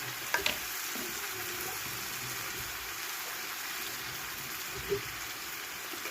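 Onion frying in a pan with turmeric, chili, cumin powder and salt, a dense, steady sizzle heard up close, with a couple of brief clinks of a utensil against the pan.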